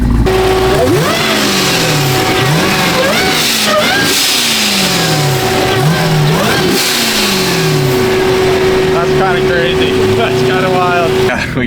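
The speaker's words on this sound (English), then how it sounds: "We got Brett in his twin charged Hellcat super stock in front of us" A twin-charged Dodge Hellcat super stock engine revs hard and close, with repeated rising and falling throttle sweeps over a steady high whine, loud and continuous throughout.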